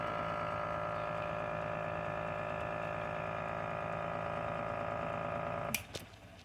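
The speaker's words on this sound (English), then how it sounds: "it almost sounds like the speed of the rotor is increasing" Pulse motor rotor spinning on a super capacitor bank, a steady mechanical whir with a humming buzz that runs evenly and close, then a couple of sharp clicks as it suddenly drops off.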